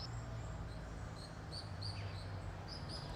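Faint, high, thin screaming calls of common swifts come in short repeated bursts from a distance over a steady low background hum.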